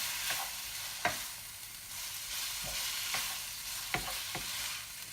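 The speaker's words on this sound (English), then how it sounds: "I want to put this in first and give it a quick mix." A spoon stirs a sizzling food filling in a hot pan, giving a close, steady frying hiss broken by several scraping knocks against the pan.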